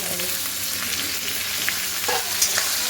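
Stuffed brinjals in masala sauté in a hot pan with a loud, dense, continuous sizzle and frying crackle, punctuated by a few light stirring scrapes, close up with no talk.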